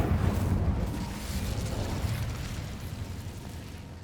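Incendio fire spell effect in Hogwarts Legacy, a sustained roaring burst of flame with deep rumbling low end, fairly loud and steady throughout without speech.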